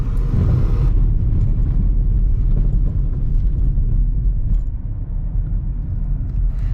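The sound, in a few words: used car driving over a rough road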